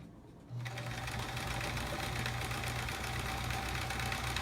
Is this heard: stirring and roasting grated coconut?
no